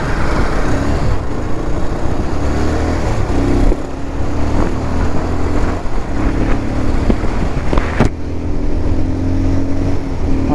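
Bajaj Pulsar 220 motorcycle ride at speed, a steady loud roar dominated by engine drone and heavy wind rush across the microphone, with no voices.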